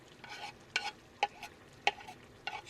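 Mushrooms sizzle softly in a one-pan curry cooked in a campervan, with a few sharp utensil scrapes and taps as they are stirred, close by and quiet.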